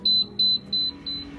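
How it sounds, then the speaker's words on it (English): Four loud, high-pitched electronic beeps from an oven in an even rhythm, each held briefly, with a low hum underneath. "Sorry for the loud beeping."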